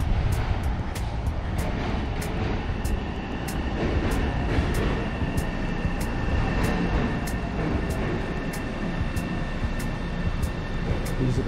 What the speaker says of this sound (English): These are the subway cars.